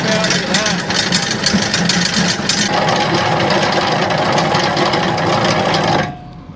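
A small engine-driven auger runs while clearing out debris, a close, steady mechanical chugging and rattle that carries on for about six seconds, then cuts off abruptly.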